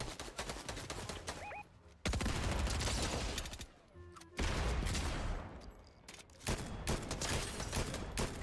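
Rapid bursts of gunfire from the Fortnite Chapter 4 video game, dense and loud for most of the stretch, with short pauses between volleys and no talk.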